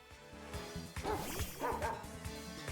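Cry of Dachsbun, the bread-dog Pokémon, in Pokémon Violet: a short synthesized yip-and-bark sequence with rising and falling tones over ongoing game music, fairly close and clear.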